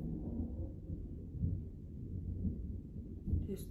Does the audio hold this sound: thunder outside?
yes